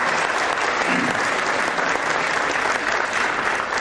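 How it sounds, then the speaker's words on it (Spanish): A conference audience of a human rights congress gives warm, sustained applause, dense steady clapping filling the hall throughout, without spoken words. "para quien pido un caluroso aplauso."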